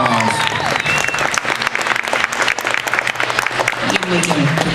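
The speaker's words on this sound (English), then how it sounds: "Give her a big round of applause, everyone." An audience at a comedy hypnosis show claps in a dense, lively burst of applause, with voices and cheers mixed into the crowd noise.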